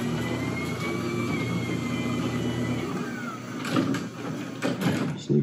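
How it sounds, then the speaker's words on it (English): A Liftmaster/Chamberlain garage door opener raises the door with a steady motor hum and mechanical rumble, followed by a few louder clunks and rattles near the end. "Give it another tap, send a signal to then raise and open the door."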